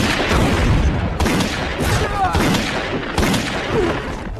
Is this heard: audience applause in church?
no